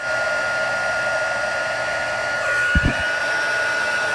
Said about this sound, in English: You're gonna heat it till your powder melts.